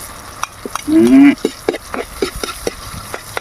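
Mung beans and garlic being stirred in a pan, with intermittent scraping and clinking of a utensil and a soft sizzle underneath, plus a brief voice-like sound.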